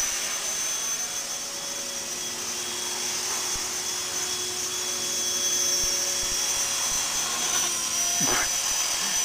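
A mini Titan long-tail RC helicopter flies with a fast, steady high-pitched whine of rotor and motor, loud and continuous throughout with no talk.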